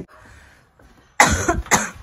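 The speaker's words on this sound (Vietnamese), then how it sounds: "Mới thấy chồng về cái ngồi ho." A man coughs after returning from a long trip, a loud close burst of several harsh coughs followed by a second short cough, with a quiet room beforehand.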